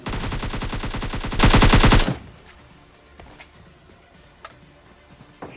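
Automatic gunfire in PUBG Mobile Lite comes as a loud rapid burst for about two seconds and cuts off abruptly. Faint clicks and small game effects follow in the quiet afterward.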